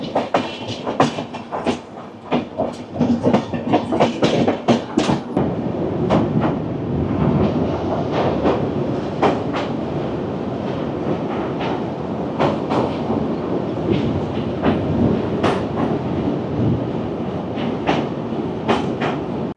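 Himgiri Express (12331) passenger train running on rails, a steady loud rumble with repeated clickety-clack of wheels over rail joints throughout, recorded from on board, no voices.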